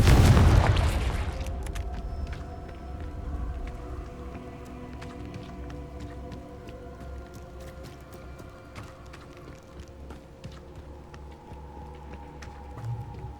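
A Confringo fire spell explosion in Hogwarts Legacy, one loud booming blast at the start that decays into a long rumbling tail under game ambience and scattered small crackles.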